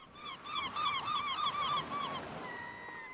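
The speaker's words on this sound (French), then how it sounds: "on pouvait entendre des mouettes qui semblaient souhaiter la bienvenue au groupe" Seagulls calling by the sea, a run of repeated high, wavering cries close together, then a single long drawn-out call fading at the end.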